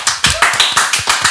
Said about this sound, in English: I'm going to keep clapping so we sound really popular.